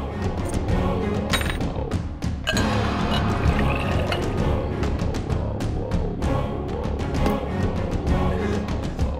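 Water poured out for drinking indoors, a close, continuous pouring and splashing that runs for several seconds, broken by a couple of soft thumps.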